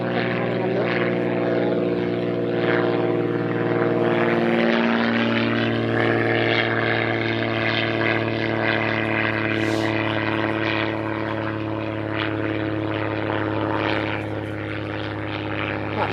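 A small propeller plane, likely from a North Dorset airfield, drones steadily overhead in the Wiltshire countryside, its engine hum loud and continuous with a slight shift in pitch as it passes.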